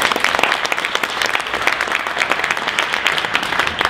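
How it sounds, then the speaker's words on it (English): A conference audience applauds a panel of speakers with dense, steady clapping from many hands, close and loud, sustained for several seconds with no voices. "Let's give them a round of applause."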